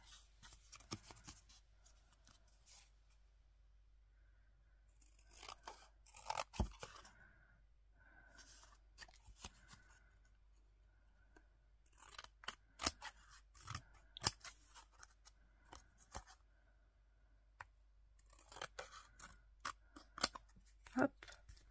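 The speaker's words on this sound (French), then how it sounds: "Je vais couper l'excédent." Scissors snipping off excess paper from an artist trading card, scattered short cuts and crisp snips in irregular bursts with quiet gaps between, close up and fairly faint.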